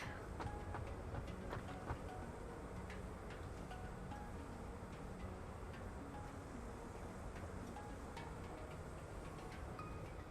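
Train rolling along rails in the factory-building video game Satisfactory, a steady faint rumble with light rhythmic clicking and rattling throughout, no talking.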